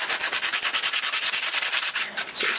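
Rapid, even back-and-forth scraping of sandpaper hand-sanding the metal of an old Mamod SR1 steam roller, close up, with a brief pause near the end.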